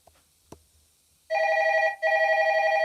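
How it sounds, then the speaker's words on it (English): A telephone rings during a livestream: a faint click, then two loud electronic ring bursts in quick succession with a short gap between them, with no voices. "Let it go to voicemail, says Chris"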